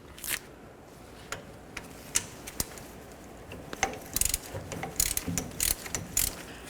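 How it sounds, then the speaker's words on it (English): A 3/8 ratchet with an extension clicks in short bursts while loosening the differential fill plug on a 1988-2000 Chevy C/K1500, quiet at first and then faster, denser ratcheting runs near the end. "I'm going to use a 3/8 ratchet with an extension"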